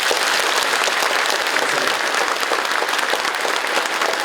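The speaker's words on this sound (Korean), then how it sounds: "민선국이 황의주 군수님께 축하와 성원의 힘찬 박수를 부탁드립니다" Sustained dense applause from a large crowd at a county governor's inauguration ceremony in Uljin, steady and loud throughout with no break.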